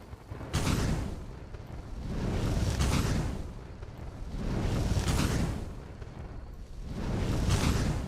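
A fire spell cast again and again at Spriggans in a video game, a series of four roaring, rumbling bursts about two seconds apart, each swelling and fading, loud and close with no talk.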